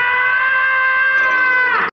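Cartoon cat scream from Tom, a human yell voiced by William Hanna: one loud, sustained, strained wail holding steady pitch for nearly two seconds, then cutting off abruptly, with no other sound.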